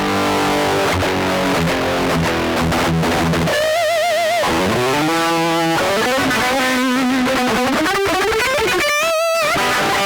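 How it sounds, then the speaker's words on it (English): An electric guitar runs through a Bugera PS1 tube amp head, taken straight from the line output into an interface, giving a harsh, buzzy distorted tone. Sustained chords give way to bent single notes and quick runs, loud and continuous. "now we're going into the interface straight out of the line output,"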